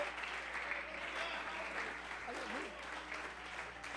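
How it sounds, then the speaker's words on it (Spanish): A church congregation applauds during a sermon, a continuous, moderately distant patter of clapping with a voice speaking faintly over it. "Aplauda la santidad perfecta de Cristo."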